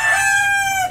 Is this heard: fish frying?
no